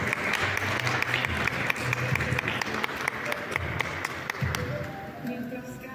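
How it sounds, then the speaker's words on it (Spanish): Applause from the audience at a poetry book presentation for Javier Tarqui Maldonado's "Yo fui la oscura sombra", steady dense clapping that fills the room, with a low voice murmuring underneath and the clapping easing off near the end. "Un aplauso, por favor"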